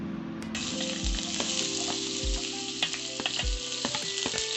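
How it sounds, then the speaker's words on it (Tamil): Onions sauté in hot oil with cinnamon, cardamom and cloves for paneer butter masala, a constant bright sizzle broken by a few soft knocks of the spoon against the pan, with no one talking. "கூடவே நம்ம கட் பண்ணி வச்சுருக்க ஆனியனையும் சேர்த்து நல்லா வதக்கிக்கலாம்."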